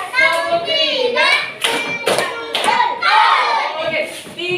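Schoolchildren in a classroom play an Indonesian clap game, chanting loudly together while a few sharp hand claps punctuate their sing-song voices at close range.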